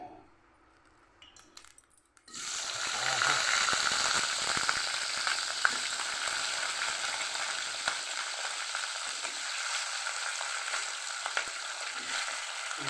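Washed dried fish sizzling in hot oil for a cucumber dried-fish curry, a quiet pause followed by a sudden, steady, crackling sizzle that carries on evenly with faint clinks.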